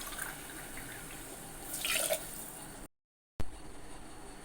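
Water runs and splashes into a cooking pot for kuska biryani for a couple of seconds amid kitchen background noise, then cuts out briefly.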